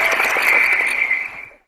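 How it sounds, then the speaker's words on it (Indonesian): Applause at an online webinar gathering, a dense burst of clapping that holds steady for over a second and then quickly fades out, loud and close with no talk over it. "Tepuk tangan."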